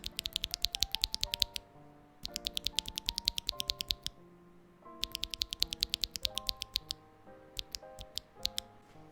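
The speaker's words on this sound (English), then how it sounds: "now I'm going to be testing the sound of the switches directly into the microphone by pressing onto the stem" Akko CS Lavender Purple tactile keyboard switches pressed by the stem right at the microphone, producing quick bursts of sharp clicky clacks in three rapid runs with short pauses between, close and crisp with no talk.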